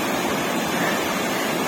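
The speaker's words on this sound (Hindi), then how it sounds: "हमारे गांव का झरना" A village waterfall in the hills gives off a steady, even rush of falling water with no break, sounding fairly close and filling the whole moment.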